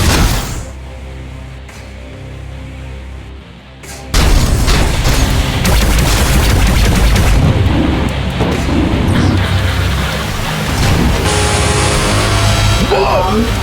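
Bomb detonation in the arcade shooter Gunhead, a sudden heavy boom that bursts in after a quieter stretch and rolls on as a long, loud rumbling blast with crackling debris and rising electronic tones.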